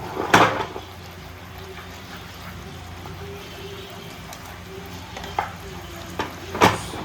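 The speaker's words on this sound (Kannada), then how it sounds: "ಗ್ಯಾಸ್ ಸ್ಟವ್ನ ಸ್ವಲ್ಪ ಹೈ ಫ್ಲೇಮಲ್ಲಿ ಇಟ್ಕೊಂಡು ಟಾಸ್ ಮಾಡಬೇಕು" Prawns toss in butter and garlic in a pan over a high gas flame, giving a soft continuous sizzle broken by a few sharp metallic clanks of the utensil against the pan, near and moderately quiet.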